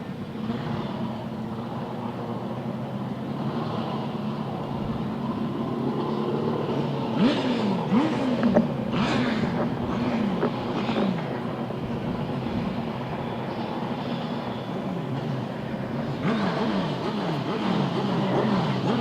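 Grasstrack motorcycles at a race start rev and accelerate in a loud, continuous roar, and rising and falling engine whines overlap as the bikes pull away at a distance.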